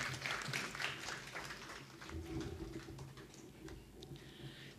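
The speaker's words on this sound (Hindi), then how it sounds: "जोरदार ताली से स्वागत हमारे श्री दयाल कृष्ण नाथ जी का।" Applause from an audience welcoming an award recipient at a theatre award ceremony, a dense, steady patter of many hands clapping that holds for several seconds at moderate distance.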